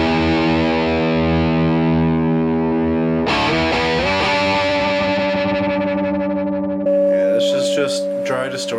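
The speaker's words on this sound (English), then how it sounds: "Just dry distortion. I'm not using any pedals. I'm just playing through my PRS MT15" Electric guitar played through a PRS MT15 amp with dry amp distortion and no pedals, loud sustained chords and ringing notes, then a fresh attack with gritty overdriven harmonics, heard alone.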